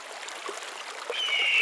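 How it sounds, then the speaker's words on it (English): A swollen river running with newly formed rapids, a steady broadband rush of moving water that grows slightly louder toward the end, with no voices. "the river is completely swollen, and rapids have begun to form"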